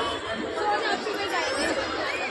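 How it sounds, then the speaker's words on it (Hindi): Dense chatter of a large crowd of pilgrims at night on the Ganga ghat in Haridwar, a continuous close murmur of many voices with no single speaker standing out. "कितनी ज़्यादा भीड़ है श्रद्धालु की बुरी तरीके से"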